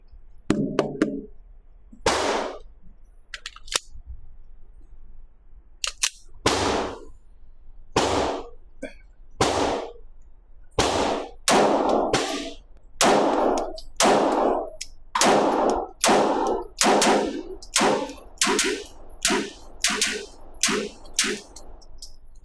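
A Rock Island Armory Derya DY9 fires about fifteen rounds, sharp loud reports coming slowly at first, then in a quicker, steadier series toward the end.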